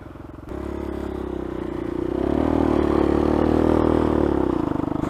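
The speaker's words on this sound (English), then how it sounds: "Bike started again." A dirt bike engine runs while being ridden on hilly ground, a loud steady drone that rises as the throttle opens and holds a buzzing tone, close to the rider, with no talk.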